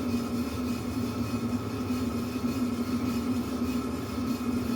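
A Ford Focus wheel hub with a bad wheel bearing spun by hand, giving a steady, continuous whirring hum with a faint rumble that holds an even level throughout.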